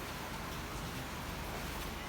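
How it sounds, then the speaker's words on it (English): Heavy rain pours down steadily on a garden, making a dense, even hiss that stays the same across the short stretch, with no voices. "You can feel the rain from here going so heavily"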